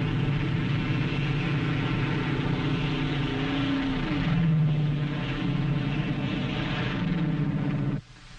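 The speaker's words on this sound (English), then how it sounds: "the drone aircraft are launched and temporarily guided from the carrier" A steady, droning engine of a drone aircraft flying overhead during the 1946 Operation Crossroads tests holds loud and constant, its pitch briefly sliding around midway, then cutting off abruptly near the end.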